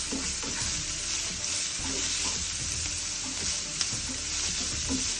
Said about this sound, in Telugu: దీనిలో కొద్దిగా కరివేపాకు, ఉల్లిపాయలు, సన్నగా తరిగిన పచ్చిమిర్చి వేసుకుని కలర్ చేంజ్ అయ్యే వరకు వేయించుకోవాలన్నమాట